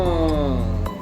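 A voice imitates a metal detector picking up metal: a steady, wavering hum with pulsing low tones lasting about a second, loud and close, with no other sound.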